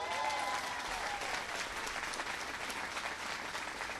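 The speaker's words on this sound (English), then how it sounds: "Give him a big round of applause." Crowd at a presidential speech on infrastructure at Jacksonville's port, applauding in a full, steady wash of clapping that stays loud and even throughout.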